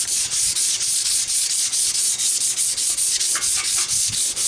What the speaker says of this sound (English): Basically fold it in half, better than that. And what do? You just sand this